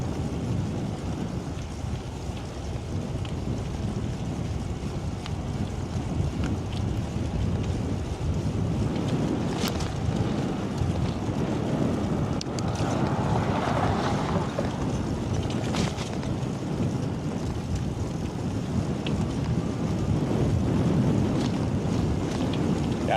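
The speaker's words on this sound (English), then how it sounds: "hopefully that headwind breaks when we get into the city" A strong headwind buffets the microphone of a moving e-bike, a loud, continuous roaring rumble that swells and eases with no speech.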